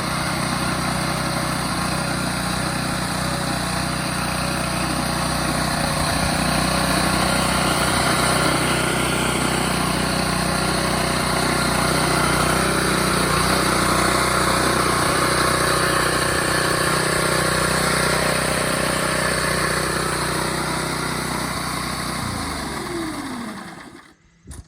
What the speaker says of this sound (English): This one's been run for a minute, so I'm not going to need to choke it